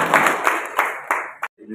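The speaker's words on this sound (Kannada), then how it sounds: "ಈ ವ್ಯವಸ್ಥೆನ ಮಾಡಿರ್ತಕ್ಕಂಥ ಎಲ್ಲರಿಗೂ ಕೂಡ ನಾನು ಒಂದು ಜೋರಾದ ಚಪ್ಪಾಳೆ" Audience at a farmers' interaction meeting in Thirthahalli breaks into loud, dense clapping that swells in bursts through the room, then cuts off abruptly with a brief quiet before faint noise resumes.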